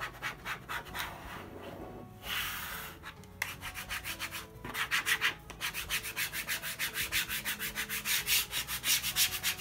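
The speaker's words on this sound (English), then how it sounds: "you'll just rub over the stencil" Squeegee rubbing over a stencil stuck to a wooden Easter sign, close rhythmic scraping strokes, uneven at first, then settling into a fast steady back-and-forth.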